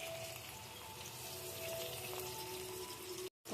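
Onions, curry leaves and green chillies fry in hot oil in a pan, a soft steady sizzle running evenly throughout before a brief cut to silence near the end.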